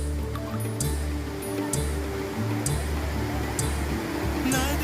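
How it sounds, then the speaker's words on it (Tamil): Lakkam waterfalls near Marayur, low-flow season: steady broadband rushing water fills the scene, with faint intermittent higher splashes over a continuous roar. "நம்ம எங்கே வந்துக்கோம்னா லக்கம் வாட்டர் ஃபால்ஸ் வந்துருக்கோம்"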